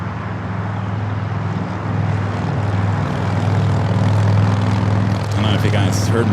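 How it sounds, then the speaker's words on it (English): An Emirates Airbus A380 takes off from the south side at LAX at night, a loud steady jet roar with a deep low rumble that swells gradually as the aircraft powers down the runway. "Emirates A380 south side takeoff."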